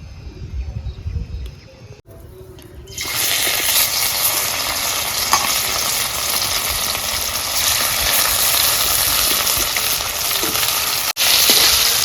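Shol and guley fish fry in hot oil in a kadai, starting with a quieter moment before a loud, continuous crackling sizzle takes over and holds steady.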